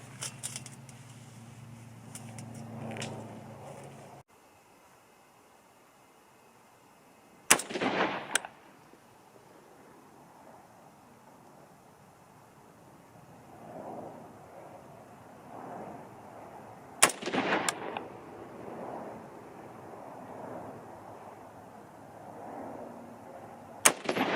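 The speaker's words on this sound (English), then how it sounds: "Last 3 shots." A hunting rifle fires its final shots while being sighted in, with sharp, loud cracks spaced several seconds apart and a short echo after each, separated by quiet outdoor background.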